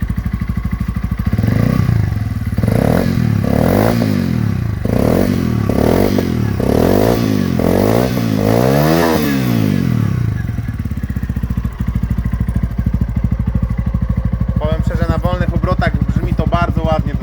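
A vintage Junak M12 motorcycle engine revs up and down in repeated rising and falling surges, close and loud, then settles into a steady idle with a brief rattle near the end.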